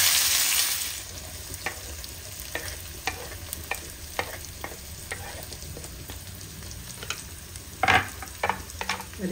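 Onions sizzle steadily in a pan with cumin for a Punjabi-style mixed vegetable dish, while a spoon stirs and scrapes at irregular intervals, with several sharper clinks close by and no voices.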